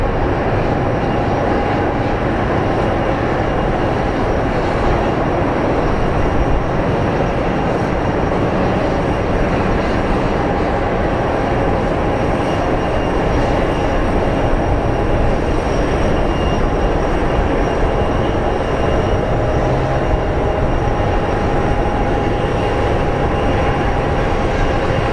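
A steady, loud broadband roar with a faint whine runs throughout as an Airbus A321 is pushed back at Phoenix Sky Harbor airport, the engine and ground noise unbroken for the whole stretch.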